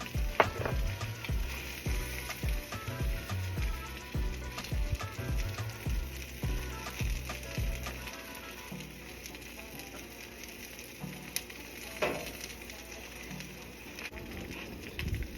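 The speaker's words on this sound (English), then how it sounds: "I'm gonna take some of this beef tallow with this knife here, just throw it on here." Beef tallow sizzling on a hot griddle makes a close, continuous crackle and spatter, with rhythmic scraping and tapping at first that thins into a quieter steady sizzle.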